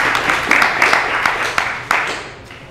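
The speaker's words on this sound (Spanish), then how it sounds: "un aplauso para ti" An indoor audience welcomes a speaker at a talk on speciesism with scattered, distinct hand claps that thin out and fade toward the end.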